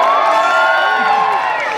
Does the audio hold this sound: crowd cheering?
yes